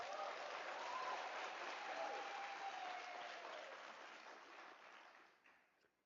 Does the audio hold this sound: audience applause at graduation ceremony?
yes